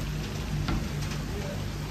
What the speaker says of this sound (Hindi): लेकिन बारिश देखो